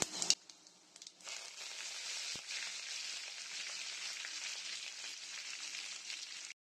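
Fenugreek, fennel, cumin and curry leaves fry in hot oil with a steady, hissing sizzle that begins after a brief clatter and holds evenly to the end, close and moderately loud with no voices.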